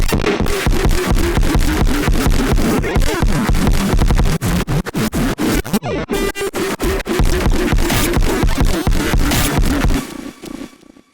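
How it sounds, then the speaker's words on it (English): Deconstructed electronic music drop, hard and dense, with rapid glitchy percussive hits and harsh textures, a brief break near the middle, then a sudden stop near the end. "this drop comes together pretty hard and sounds like this"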